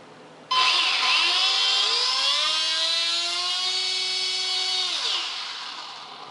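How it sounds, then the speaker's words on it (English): The three small brushed electric motors of a WLToys Cessna-182 three-channel RC plane spin up to a sudden high whine. The pitch climbs, holds steady up close, then drops away near the end. "Got three little brush motors in there"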